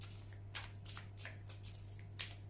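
Playing cards riffled and cut in several quick bursts during a daily card reading, crisp papery flutters separated by short pauses over a steady low hum, close and moderately loud with no talk.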